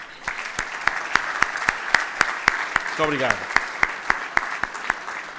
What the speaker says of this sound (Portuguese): uma grande e merecida salva de palmas